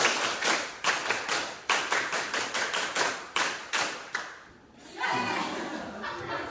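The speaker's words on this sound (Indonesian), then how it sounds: "tepuk pramuka ditambah 2" Indonesian scout clap (tepuk pramuka) performed by a group of students in a classroom: a rhythmic sequence of sharp, loud claps in quick patterned bursts, ending with a looser flurry of clapping and some chuckling.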